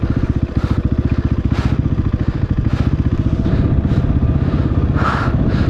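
Motorcycle laboring along a rough mountain trail near Muktinath, its engine thumping in a fast steady pulse, loud and close, with intermittent clattering and rattling bursts over the drone.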